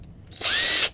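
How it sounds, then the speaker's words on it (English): Impact driver spinning briefly while unscrewing a gas water heater control box, a short loud whirring burst of about half a second after a quiet lead-in, close by. "using this impact saves a lot of twisting with my hands"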